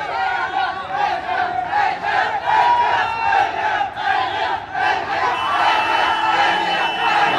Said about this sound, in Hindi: आगे, अभी से भीड़ लगनी स्टार्ट हो गई भाई।